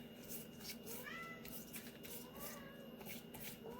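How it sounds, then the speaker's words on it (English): Several house cats meow early in the morning indoors, with short rising cries repeating at moderate distance over a steady room hum. "Excuse my cats meowing there."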